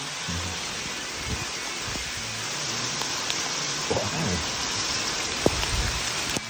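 Hail pelts down in a dense, steady hiss during a storm, with a few sharper individual impacts standing out.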